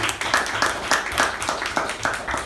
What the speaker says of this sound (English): a round of applause for Pavani for that excellent reading of minutes of the meeting